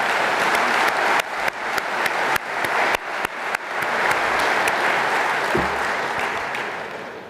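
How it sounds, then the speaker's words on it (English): Business forum audience in a large hall giving a round of applause, dense clapping punctuated by sharp loud claps, sustained for several seconds before gradually tapering off. "Can you join me with a round of applause for their good effort?"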